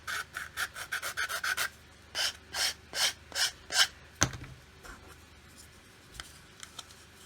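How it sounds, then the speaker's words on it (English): A piece being hand sanded in one direction, a series of rhythmic rasping strokes up close, followed by a sharp knock and fainter scattered rubbing. "if you sand in one direction like that rather than going like this, it tends to keep everything a bit more square."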